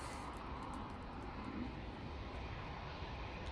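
An Air Canada airliner passes overhead near Manchester Airport, a steady, broad roar of jet engine noise that holds evenly throughout, with gusty wind blending into the rumble and no voices.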